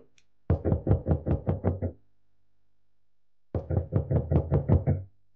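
Knocking on a door in the VR horror game The Starlight Hotel: two bursts of about eight rapid, loud, close knocks each, separated by a few seconds of silence.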